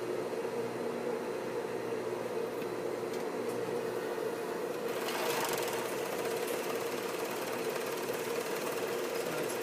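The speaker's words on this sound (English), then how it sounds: "it's cutting, it's giving me a straight stitch, and it's also giving me the overlock" Serger sewing machine cutting fabric and sewing a safety stitch with overlock, a steady rapid mechanical whir that runs continuously up close and swells briefly in the middle.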